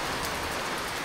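Steady rain falling outdoors on a sunny day, a dense continuous hiss of drops on surfaces, fairly loud and close with no voices.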